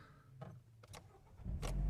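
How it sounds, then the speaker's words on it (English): A Toyota Auris engine starting up: a couple of short cranking bursts, faint at first, then the motor catches and settles into a low, rising rumble, close by with no talk. "Start it up."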